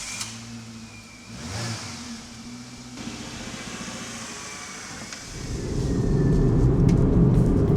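Engine hum and road rumble inside a Daewoo Matiz small car while driving; the engine note rises and falls, then the rumble grows louder and rougher.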